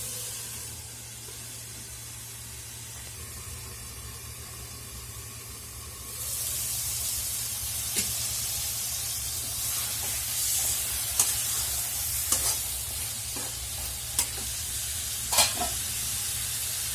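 Prawn malaikari masala sautés in a pan, starting as a low simmer and rising into a bright, steady sizzle with occasional sharp crackles and stirring clicks.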